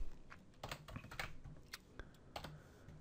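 Quick keystrokes on a computer keyboard while entering an SQL query, a short run of close, crisp clicks.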